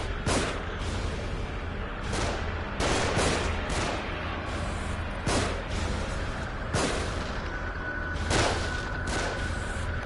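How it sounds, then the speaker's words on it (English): Enemy gunfire pours down from above in The Evil Within, a steady barrage of loud shots and bursts with heavy booms recurring every second or two, dense and continuous with no talking. "They're shooting from above."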